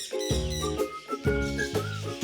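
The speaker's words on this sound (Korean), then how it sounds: "맑은 새소리를 쫓아서 왔더니 이렇게 색다른 곳이 펼쳐졌어요" Parrots and other birds at an animal farm in Hongseong, South Chungcheong, calling in clear, loud whistles and chirps that repeat in short bursts with brief pauses between.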